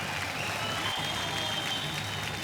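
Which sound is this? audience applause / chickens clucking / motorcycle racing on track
audience applause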